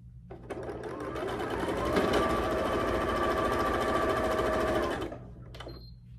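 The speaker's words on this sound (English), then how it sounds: "So down this seam right here, I'm going to sew a 1/4 inch." A sewing machine stitches a quarter-inch seam joining quilt pieces, a fast continuous whirring run that builds briefly, holds for about four seconds, then stops, close and alone.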